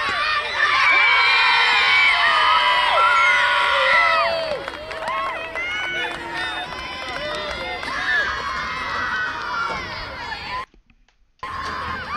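A fall sports team cheering together, a loud crowd of young voices shouting and whooping for about ten seconds, with a near-silent break before some voices pick up again.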